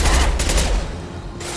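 Rapid bursts of gunfire from the video game Mass Effect 2 crackle in loud, dense volleys, pausing briefly before firing resumes.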